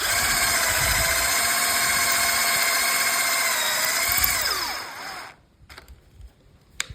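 Steady high whine of a DeWalt or Assur cordless drill motor running in first gear for several seconds, then winding down and stopping, followed by a few light knocks and handling noises.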